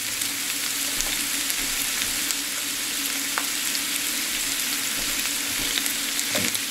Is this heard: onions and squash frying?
yes